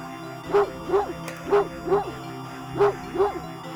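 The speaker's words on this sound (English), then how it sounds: "A series of excited barks jerks your gaze forward as you see a large dog sprinting towards you." An excited large dog barks in a video game, six sharp close barks coming in two quick bursts over a steady synthetic background hum.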